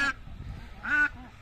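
Female duck with bumblefoot quacking, two loud nasal honking quacks close by, separated by a short gap, followed by a softer trailing call.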